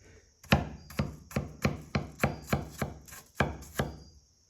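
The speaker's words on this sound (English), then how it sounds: "you just saw me slice that apple" A thick WC Knives North Wind blade cuts through an apple, about ten crisp, evenly spaced chops onto a board, close and distinct, with no speech.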